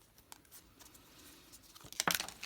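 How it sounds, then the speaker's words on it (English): A deck of tarot cards is shuffled by hand, soft papery riffling and crinkling that builds into a louder, denser flutter of cards near the end, close and without talk. "So I'm going to give these a shuffle because everybody likes to see how they shuffle."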